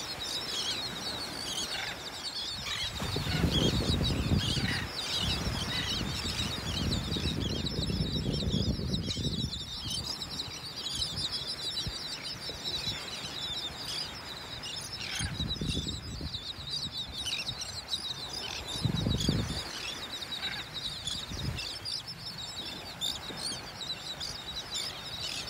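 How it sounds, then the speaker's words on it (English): Birds calling steadily in the open air on a beach in North Naples, Florida, with bursts of low rumbling surf or wind coming and going beneath them. "Listening to these birds. I love it."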